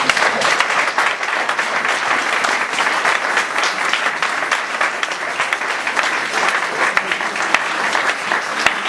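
A church congregation bursts into loud, dense applause, a continuous wash of many hands clapping close and steady throughout, with no clear speech over it.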